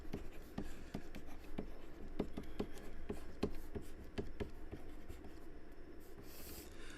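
Marker or pen scratching an equation onto a board in a circuit-analysis lesson, a steady series of short scraping strokes and taps, close and moderately loud, with no talking.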